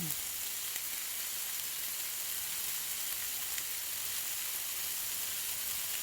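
A bacon cheeseburger patty frying on a hot griddle as cheese melts over it, giving a steady, even sizzle and hiss that holds level throughout with no talking.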